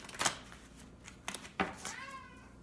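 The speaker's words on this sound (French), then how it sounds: "Ah, mon chat." A cat in a room gives a short meow near the end, faint under scattered thumps and rustling card-handling noises, with no talk.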